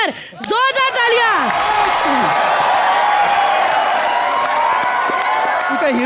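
A television comedy studio audience bursts into loud, sustained applause with cheers and whoops, a dense roar of clapping that fills the room after an announcer calls the performers onstage.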